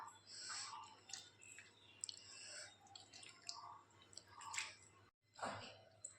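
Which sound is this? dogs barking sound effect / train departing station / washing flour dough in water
washing flour dough in water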